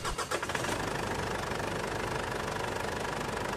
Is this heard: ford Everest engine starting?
yes